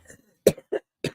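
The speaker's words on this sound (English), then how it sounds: "Well, excuse me, and let me cough." A woman coughs three times in short, sharp bursts about a quarter-second apart, close to the microphone, after a faint murmur at the start.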